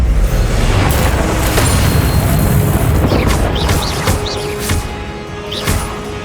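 Fiery Confringo spell blasts from the Hogwarts Legacy video game, set during the Percival Rackham trial: a dense, loud rumbling barrage with several sharp bursts and swooshing casts piling on one another, fading slightly toward the end.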